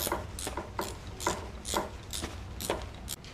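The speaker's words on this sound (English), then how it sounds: "the next step is going to be removing these 4 bolts here on the hinge" A hand ratchet clicks in quick bursts while loosening bolts on a Jeep Terraflex hinge, with about seven sharp, close ratcheting strokes spaced evenly across the clip.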